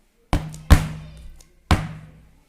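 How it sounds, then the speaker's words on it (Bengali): A cake pan full of orange cake batter is tapped on a surface to release bubbles, making three distinct loud knocks with short ringing tails, the first two close together and the third after a pause. "এবারে আমরা একটু হালকা ড্যাপ করে নেব যাতে বাবলস না ওঠে।"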